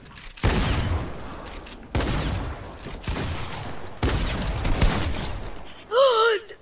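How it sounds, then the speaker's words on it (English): Bursts of gunfire in Fortnite come in several loud, sharp clusters separated by brief pauses, close and forceful, with a short voice at the end. "Did you not just shoot me through that?"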